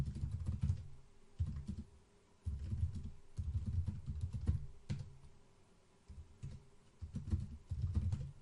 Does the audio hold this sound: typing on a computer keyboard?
yes